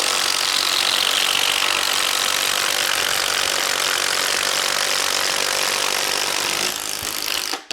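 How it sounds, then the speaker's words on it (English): A Metabo impact driver bores through wood with a 1-inch spade bit, a loud steady grinding and rattling whir that runs continuously close to the microphone and cuts off abruptly at the end. "Let's go with 1-inch spade bits."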